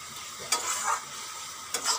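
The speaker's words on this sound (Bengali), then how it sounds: "আদা জিরা ধনে বাটা দিয়ে রান্না করতেছি।" Mixed vegetables cook with ginger, cumin and coriander paste, the pan hissing softly while two quick stirring scrapes sound close by.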